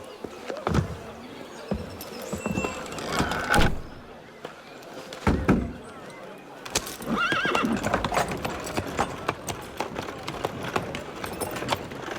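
Horses in the game Assassin's Creed Unity clop steadily on hard ground, with several loud neighs and whinnies rising over the hoofbeats and occasional clunks, all close and fairly loud.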